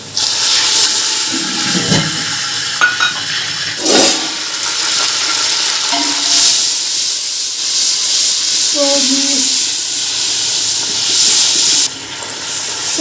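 Garlic paste hits hot oil with browned onions, setting off a loud, steady, close sizzle and hiss that runs unbroken, with brief scraping and stirring sounds mixed in.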